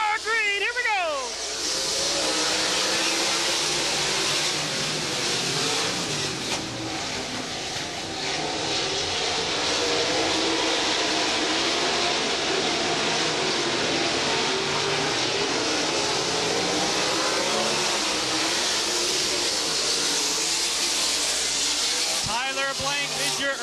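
Wing sprint cars roar through a 25-lap main event at a speedway, a loud, sustained, high-pitched engine howl filling the whole stretch as the field races, with an announcer talking over it.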